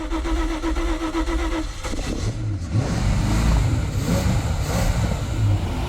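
An engine cranks, catches and settles into a steady, loud running drone close by, with a rough rumble as it fires up, before an oil change during a complete service on a restored machine.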